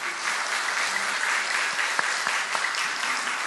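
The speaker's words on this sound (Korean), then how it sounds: "인사하실 때 박수로 격려해 주시기 바랍니다" A church congregation claps together after new workers are introduced, a steady dense patter of many hands filling the room for several seconds with no talk over it.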